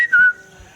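A person gives a short, sharp whistle to call children, a single bright tone that slides slightly downward and stops within a fraction of a second, close and fairly loud.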